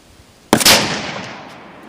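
A shotgun fires a single round of 00 buckshot at an outdoor range, aimed at a target 100 yards away; one sharp, loud blast rings out after a brief quiet and then trails off in a long fading echo.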